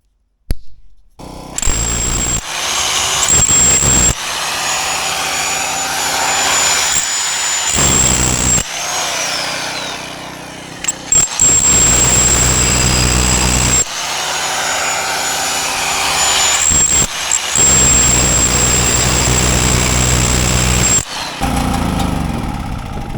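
A Bauer SDS max rotary hammer runs loudly in several bursts, a buzzing, hammering whine that starts and stops repeatedly, close up.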